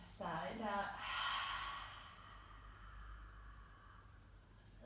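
A short voiced sound opens, then one long, deep exhale through an open mouth follows during a breathing exercise, a soft breathy rush that swells and slowly fades into quiet room noise.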